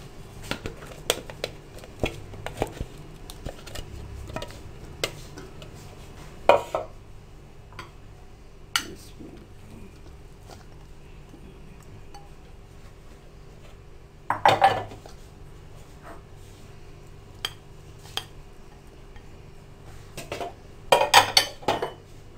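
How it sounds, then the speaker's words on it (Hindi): Pieces of chopped fruit for a fruit chaat are stirred together with a spoon in a bowl. Light scraping and clinking taps come at irregular intervals, with a few louder bursts of clattering, close by and with no talk. "अब सब फ्रूट्स को मिक्स कर लें।"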